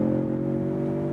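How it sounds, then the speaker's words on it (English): The small 2.3-litre turbocharged engine of a Ford Mustang holds a steady, loud, close hum at high revs for about a second, with no talking over it. "also quite a nice sound here from the small turbo engine"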